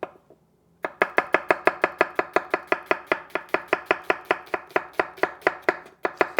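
Knife julienning halved onions on a cutting board, a fast even run of about thirty crisp chops close up after a brief quiet start, with one short pause near the end.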